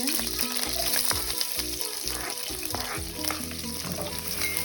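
Onion and curry leaves fry for poha in a hot pan, giving a steady bright sizzle with stirring scrapes and a low rhythmic thumping underneath, close and moderately quiet.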